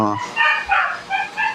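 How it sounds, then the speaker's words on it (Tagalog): A dog barks nearby in several short, yappy bursts, loud and close, with no talking over it. "pasensya na kayo, narinig nyo siguro yung tahol sa amin"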